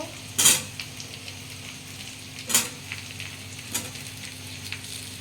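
Potato and carrot pieces frying in a pan for chicken stew, with a low sizzle underneath and three sharp scraping clatters of a spoon against the pan, close up, with no talking.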